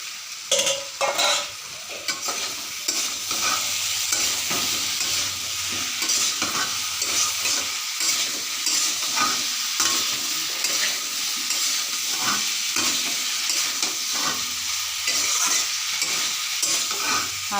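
Ridge gourd and potato pieces with spices fry and get stirred in a pan, a steady loud sizzle running throughout with brief scraping stirs and no talking.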